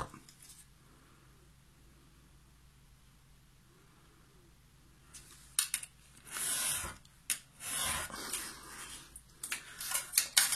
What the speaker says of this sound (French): je vais couper directement au cutter